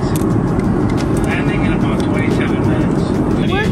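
A steady, loud roar fills a passenger airliner cabin during a red-eye flight to Hawaii as it nears landing, with voices talking over the constant drone.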